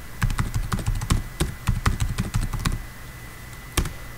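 Fast bursts of keystrokes on a computer keyboard, close and crisp, in quick runs with brief pauses and a final lone tap.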